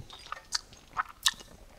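Tender boiled pork from a soup with mung beans and cauliflower is bitten and chewed up close, giving a few soft, wet mouth sounds spaced through a quiet moment with no talking.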